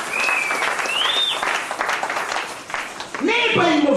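A church congregation breaks into loud sustained applause for the Lord during a French-language sermon, dense clapping throughout, with whistles and shouting voices rising above it near the end.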